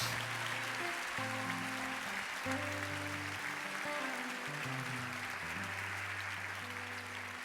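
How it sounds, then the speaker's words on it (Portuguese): Church congregation at a youth worship service applauds as people file out, a soft, steady wash of clapping heard at some distance over sustained keyboard chords. "Enquanto vocês estiverem saindo, nós vamos aplaudir o Senhor, em nome de Jesus."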